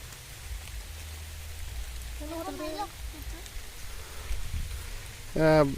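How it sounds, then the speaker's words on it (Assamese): Steady rain falls around a village fishing spot as an even, continuous hiss, with a few brief faint voices surfacing in the background. "বৰষুণটোৰ অৱস্থাটো বেয়া কৰি দিছে"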